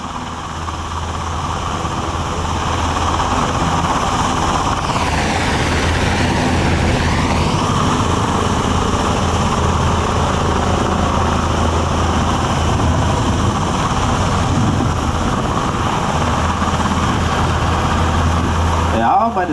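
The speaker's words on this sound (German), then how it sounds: "Ja, das ist nicht der Wind, der gerade so aufgekommen ist, sondern der Abwind eines Hubschraubers." Military helicopter hovering low over a Bundeswehr air show at Faßberg, giving a loud, steady rotor and engine roar with continuous wash throughout, a brief turbine whine swell partway through, and faint crowd noise beneath.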